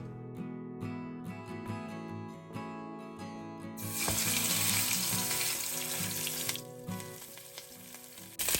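Loud, steady sizzling of salmon skin searing in a hot pan of oil, crackling and spitting continuously and growing more intense partway through, with no talking.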